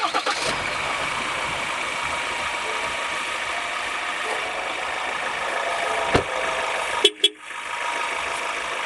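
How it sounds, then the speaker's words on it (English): A vehicle engine runs at a steady, fairly close idle while warming its oil, a continuous mechanical drone with a couple of sharp knocks near the end. "right now we're going to start the engine and let the oil warm up."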